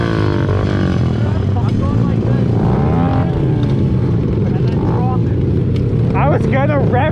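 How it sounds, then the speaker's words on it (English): A pit bike engine revs hard and close, a loud continuous buzzing roar that rises and falls, with voices talking over it. "I'm gonna rev it up and just hold it in gear and then dump it"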